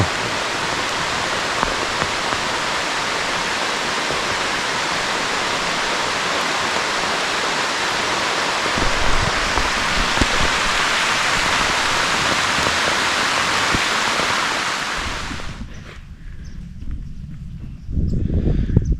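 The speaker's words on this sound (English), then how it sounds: "torrential downpour." Torrential rain pours down in heavy, continuous hiss in a Kentucky woods during a bowhunt, loud and dense before cutting off abruptly near the end to quieter ambient sound.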